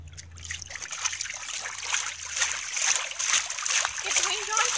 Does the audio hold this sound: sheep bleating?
no